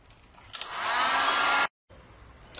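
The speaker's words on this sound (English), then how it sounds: "take a heat gun and evenly heat up the PVC until it's nice and floppy" A heat gun blows hot air over PVC pipe to soften it, a steady, loud whooshing roar that holds for about a second before cutting off abruptly, with no talking.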